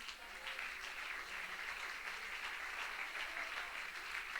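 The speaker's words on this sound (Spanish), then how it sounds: "Dele un fuerte aplauso al Señor" A church congregation applauding at a worship service, a steady wash of clapping that holds evenly and fairly softly throughout, with no voices standing out.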